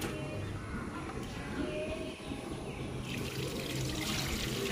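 Wheat grains are washed with water in a drum on a rooftop, giving a continuous, fairly soft sloshing and trickling with faint background noise throughout.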